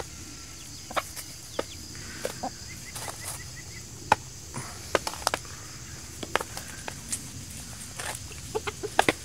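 Chickens cluck and peck at wax-moth-damaged honeycomb frames nearby in scattered short bursts over a quiet background, with occasional sharp taps among the clucks.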